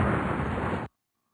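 A bomb explodes in the castle-defense game Defend Your Castle as a dense, loud burst of roaring noise that lasts under a second and then cuts off abruptly to silence.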